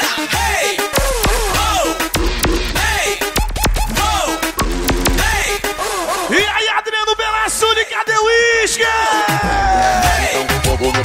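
A party crowd at a live DJ set in a Brazilian baião style yells out over pounding, continuous music, the shouts blending into the loud mix while an MC's amplified voice rides on top throughout.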